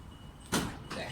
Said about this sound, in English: Your rear doors open